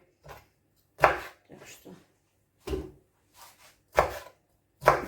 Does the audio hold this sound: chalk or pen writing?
no